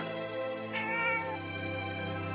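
A cat meows faintly over a steady low droning hum.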